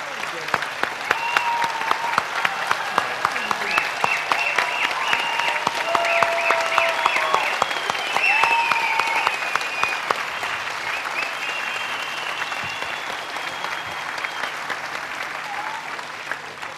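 A studio audience gives sustained, dense applause throughout, loud and steady, with many hands clapping together on a Turkish television talk show.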